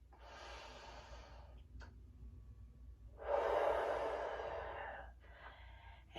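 Deep breathing in a stretching class: a long exhale, a brief pause, then a stronger, louder breath out followed by a shorter one, close and clear over faint background hum.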